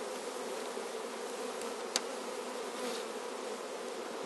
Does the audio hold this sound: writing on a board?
no